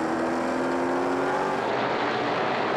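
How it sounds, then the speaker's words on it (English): The big Dodge stock car number 14 roars past at a 2015 Pinty's series race, a loud, sustained engine drone with a steady pitch that fades slightly as it moves away. "Hear that horsepower from the 14 of James Van Domselaar."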